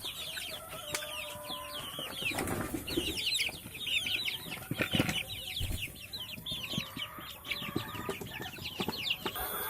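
A flock of chickens clucks and chatters continuously at a moderate distance, with occasional wing flaps and scattered louder squawks mixed in.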